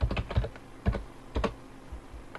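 An admin password typed on a computer keyboard, heard as a close, fairly loud run of irregular keystrokes with short pauses between clusters of taps.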